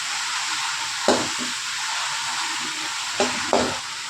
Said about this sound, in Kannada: ಈರುಳ್ಳಿ ಕೊತ್ತಂಬರಿ ಕರಿಬೇವು ಇಷ್ಟನ್ನು ಹಾಕೋತಾ ಇದ್ದೀನಿ ಸೊ ಇವೆಲ್ಲ ಚೆನ್ನಾಗಿ ಫ್ರೈ ಆಗಬೇಕು